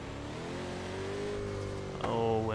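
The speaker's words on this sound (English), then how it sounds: "Oh, this car sounds so good" A car engine in the racing game Forza Horizon 3 hums at a steady, moderate level, then rises in a short rev near the end.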